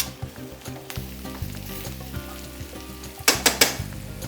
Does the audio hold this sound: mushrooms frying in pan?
yes